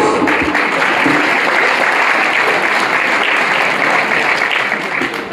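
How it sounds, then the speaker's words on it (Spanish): Loud, sustained applause from a crowd at a quinceañera party in Oaxaca, a dense clapping wash that continues steadily throughout and eases slightly at the very end. "Fuertes esos aplausos."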